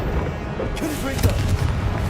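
Confringo explosive spell cast in the video game Hogwarts Legacy, producing a couple of short, punchy booms over a dense background of game noise and a voice.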